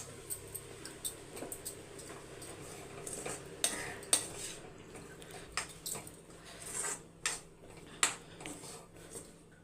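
A spoon stirs and scrapes through tamarind rice in a metal vessel, giving irregular clinks and scraping knocks that come and go, fairly close and moderately loud, with a faint background hum and no talking.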